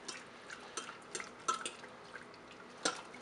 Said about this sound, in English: give it a stir with a fork.